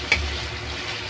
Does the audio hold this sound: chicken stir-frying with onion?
yes